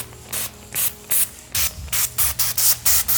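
Short hissing bursts from a spray bottle misting liquid onto film, about a dozen quick pumps in an uneven rhythm, close and fairly loud with no voices.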